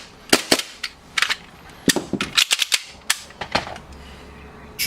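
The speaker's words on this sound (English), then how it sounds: "Let's shoot it to make sure it's actually got gas in it." A propane-powered airsoft Hi-Capa pistol fires a string of sharp, close cracks in uneven bursts, roughly a dozen shots with brief pauses between them and no voices.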